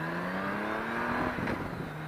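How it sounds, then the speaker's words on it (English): A Can-Am motorcycle engine fitted with aftermarket pipes revs in a sustained, rising drone, close and fairly loud, with no voices over it. "See, that sound that you got on your bike, now, I had to pay for that sound. I put pipes on this doggone thing."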